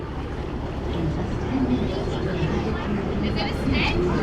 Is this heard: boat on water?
yes